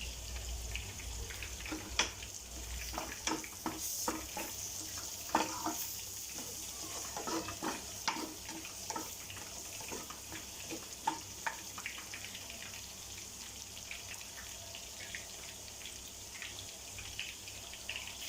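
Mutton pieces fry in curry leaf oil, giving a steady soft sizzle with scattered crackles and pops and occasional stirring clatter, fairly close and fairly quiet, with no talking.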